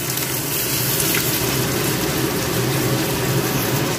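Spinach frying in a pan with ginger paste for a Bengali-style palak paneer, giving a steady, dense hiss and sizzle that runs unbroken throughout, close and fairly loud, with no talking.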